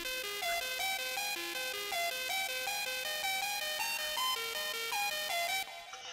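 Bright synth melody over a bass line from a remix, with a bell-like repeating pattern of quick notes that runs steadily and cuts off just before the end, no talk.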